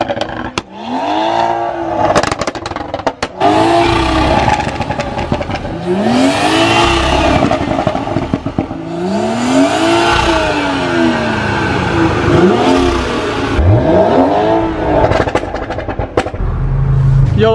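A car engine cranks and fires up, then revs repeatedly in rising and falling sweeps, loud and close, with a few people talking and shouting around it on an Eid outing.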